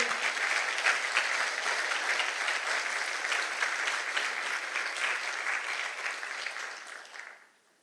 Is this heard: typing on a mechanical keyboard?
no